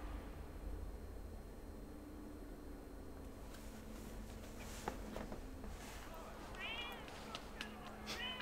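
A cat meows several times in a Tekken 8 fighting game intro, soft and fairly faint against music and a low background hum.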